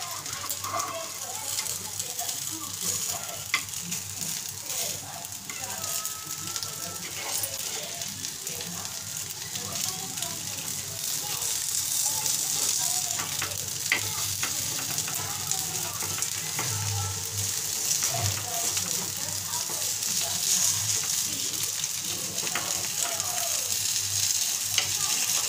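Corn appe frying in an appe pan give a continuous soft sizzle with occasional crackles and light scraping as they are turned, and someone talks over it throughout.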